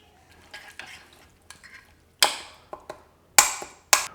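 Olive oil, mustard and honey being mixed in a bowl: a handful of sharp utensil scrapes and clinks in uneven bursts, close and fairly loud, with no talking.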